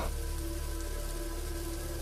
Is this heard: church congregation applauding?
no